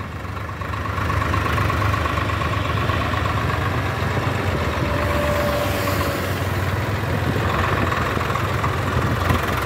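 A Swaraj 744 tractor hauling a heavy 150-quintal trailer load keeps a steady, loud engine rumble running continuously throughout, with a faint whine rising briefly partway through.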